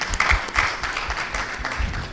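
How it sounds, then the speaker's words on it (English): Applause from the audience at a panel on journalism ethics, a steady burst of clapping that is loud at first and then eases slightly. "Please let's give her a round of applause as well."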